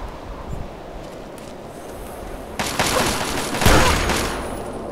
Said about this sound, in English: They're gonna stop shooting mortar at us.